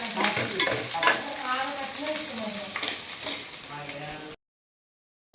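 Onions frying and being stirred in a home kitchen pan while rice is served, a continuous close sizzle with scraping stirs, cut off by a short silence near the end.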